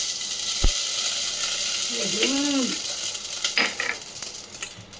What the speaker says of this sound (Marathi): राईची फोडणी घालते